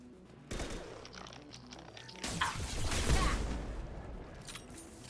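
Gunfire in the sci-fi shooter Mass Effect 2, with a dense burst of rapid shots rising to a loud crackling barrage under faint game ambience.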